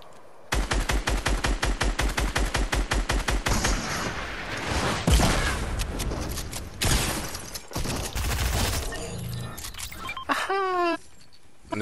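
Rapid automatic gunfire rattles loud and close in a first-person shooter, fast bursts of shots followed by heavier blasts and scattered firing, ending with rising mechanical whines.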